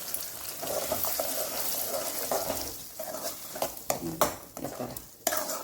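Ground kurma masala bubbles and sizzles in oil in a pan, a continuous frying crackle punctuated by several sharper pops and stirring scrapes toward the end.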